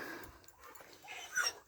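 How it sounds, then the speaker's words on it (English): Nellie, a farm dog on a homestead, gives a soft, brief whimper, faint and close, with a slightly louder whine near the end and no talking. "This is farm dog Nellie."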